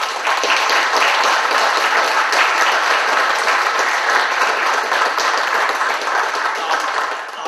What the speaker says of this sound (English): And I think they deserve a great round of applause for their efforts this evening.